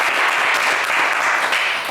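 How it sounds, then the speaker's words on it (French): Steady, dense applause from a TV game show studio audience fills the whole stretch at full volume, with no speech over it. "Allez, Zézé, on vous applaudit très fort."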